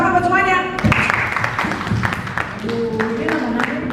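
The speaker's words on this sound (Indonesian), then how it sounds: "tepuk tangan buat semuanya" Seminar participants clap briefly in a room, a short scattered burst of handclaps mixed with voices and a speaking woman.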